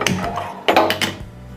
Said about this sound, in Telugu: ఇప్పుడు స్టవ్ ఆన్ చేసుకుందాం